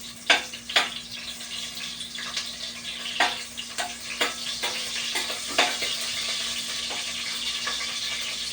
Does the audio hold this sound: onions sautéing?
yes